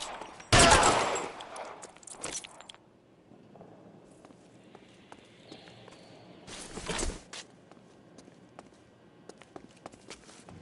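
Gunfire in the crime video game LA Noire, with a few loud, sharp bursts standing out against quieter footsteps and background clatter, some shots close and others more distant.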